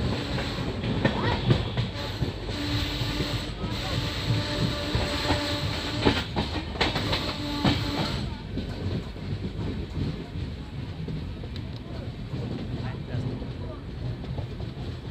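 A passenger train pulling out of Kurnool City railway station in India, rumbling along the rails with steady wheel clatter and occasional squeal, heard from on board with people talking faintly in the carriage.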